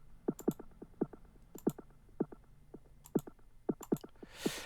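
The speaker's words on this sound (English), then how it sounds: "Now the next one I'm using is a tape delay." A drum pattern run through a tape delay plugin in Logic Pro X, heard as quiet, crisp clicky hits in a loose repeating rhythm with faint echoing repeats, ending in a soft burst of noise.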